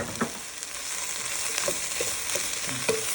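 Onions and tomato fry in a pan with a steady close sizzle, while a utensil scrapes and taps against the pan in short irregular strokes as the mixture is stirred.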